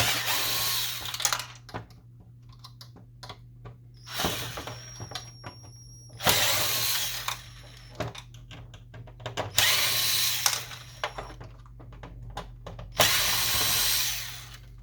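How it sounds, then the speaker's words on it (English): Power drill backing screws out of the side of an HP Officejet 6500 printer during disassembly: five short, close whirring bursts separated by quiet pauses, with faint clicks and handling noise between them. "we're going to remove screws on both. There's 4 on each side."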